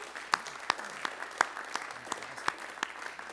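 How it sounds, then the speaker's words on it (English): Audience members at a Rotary club meeting give a round of applause: faint, sparse clapping from a small group, with a few distinct sharp claps standing out against the quiet room. "We can give a round of applause"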